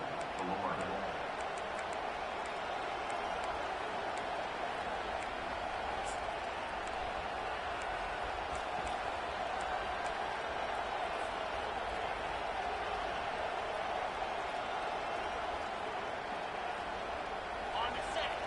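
Loud, steady stadium crowd roar in an American football video game on a tense third-and-goal, a dense continuous wash of cheering that holds for the whole stretch with faint announcer-style talk woven beneath it.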